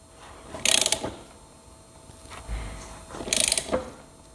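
A 19 mm wrench turned slowly by hand on a tight bolt of a two-stroke engine gives two short bursts of metallic ratcheting clicks, close and fairly loud, separated by a quiet pause.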